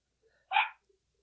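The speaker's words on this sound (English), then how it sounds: "Sorry about the dogs." A single short, sharp dog bark rings out once, moderately distant and fairly faint, in an otherwise quiet room.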